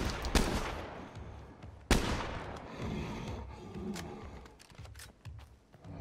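Gunfire from a survivor's gun in the zombie survival game State of Decay 2, two sharp loud shots standing out over a rumbling, noisy game background with scattered smaller impacts.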